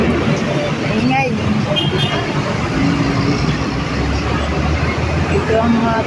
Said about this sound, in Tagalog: Ayan kaibigan, bus. Ayan bus.